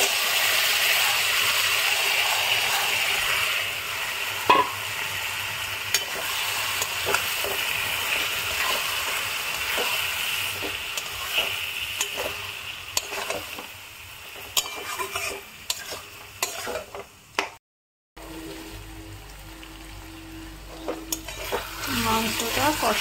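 Marinated chicken sizzling in a pan of fried onions while being stirred, with steady frying hiss, scraping utensil clinks throughout, and a brief dropout near the end.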